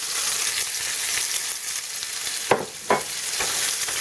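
Ostrich steak coated in spices sears in a hot pan with a constant bright sizzle, broken by two sharper bursts of spatter as the meat is moved, no voices.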